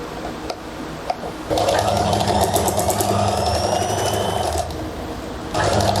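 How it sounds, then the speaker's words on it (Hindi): Sewing machine stitching the side seams of a pair of trousers, with a steady close mechanical whir that grows louder and busier partway through, dips briefly near the end, then picks up again. No speech. "तो अब हम साइडों की सिलाइयाँ लगाएंगे।"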